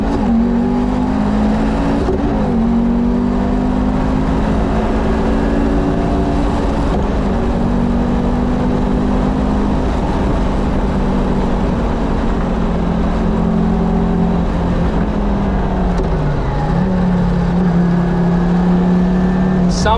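Donkervoort D8 GTO engine on the Nürburgring track, running loud and close throughout with sustained droning tones that shift pitch as it downshifts, a noticeable drop near the end, with a voice speaking over it.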